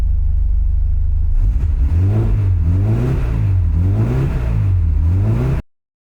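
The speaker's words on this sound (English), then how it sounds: "you can see utter joy on my face at the sound this car makes" A 1954 Austin A30's small engine idles, then revs repeatedly in rising and falling surges, loud and close, before cutting off abruptly.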